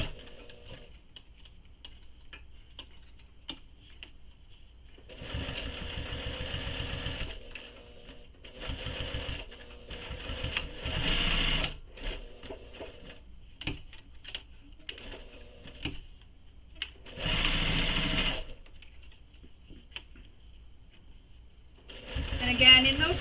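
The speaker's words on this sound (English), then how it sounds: "So you'll sew them using the seam allowance given in the pattern." Bursts of a sewing machine stitching the three sides of a fabric belt bag, several runs of a few seconds each separated by pauses with light handling clicks.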